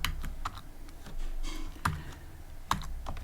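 Keys clack steadily on a computer keyboard while code is written, a quick run of light taps with a few sharper, louder strikes standing out, close and without talk.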